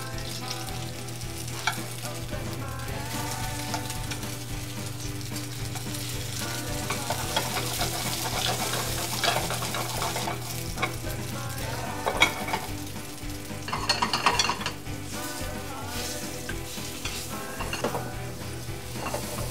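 Sliced bananas and French toast fry in butter in pans, a constant close sizzle with occasional clinks of utensils against cookware and a low background hum, with no one speaking.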